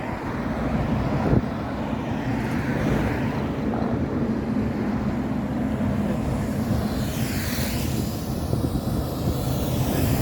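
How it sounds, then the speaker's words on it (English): Fixed-wing airplane taking off from Wilson Airport in Nairobi: steady loud engine roar with a rising then fading whine, heard from nearby amid outdoor traffic noise. "There it goes. Just taken off from Wilson Airport."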